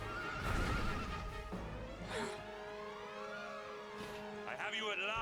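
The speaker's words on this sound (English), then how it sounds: "He's on a horse." A horse neighs and whinnies with clip-clop hooves in the Dragon Quest XI S video game, a long whinny rising and falling clearly over a busy game soundtrack.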